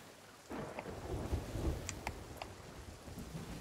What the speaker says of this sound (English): Heading right into the storm.